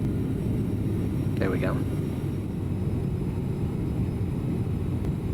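A CRJ700 jet's engines in Microsoft Flight Simulator 2020 give a steady, broad, low rumble that holds level throughout, while a voice speaks a few words briefly near the start.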